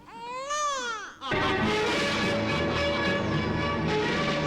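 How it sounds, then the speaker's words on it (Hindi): A baby wails loudly, opening with a rising and falling cry, then a sustained, dense crying that continues close and unbroken. "बच्चे के रोने की आवाज सुन रहे हैं आप?"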